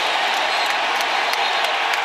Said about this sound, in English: you hear the crowd reacting